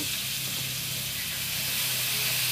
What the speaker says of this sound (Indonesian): bumbu yang sudah dicampur tadi kita masukkan ke dalam wajan yang sudah siap atau sudah matang